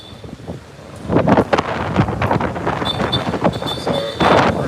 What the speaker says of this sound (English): It's pretty windy, you know.